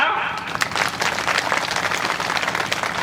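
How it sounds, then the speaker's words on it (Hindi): An audience at a Hindi devotional satsang gathering gives sustained applause, a dense, steady wash of many hands clapping over the full length. "ताली लगाओ।"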